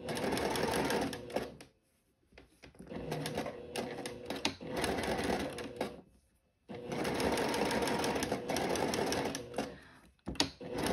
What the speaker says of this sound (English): Now I'm going to sew the shoulder seams of the bodice.